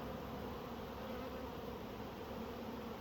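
Dense, steady buzzing of many bees at a busy apiary, a continuous insect drone filling the air without pause and without any voices.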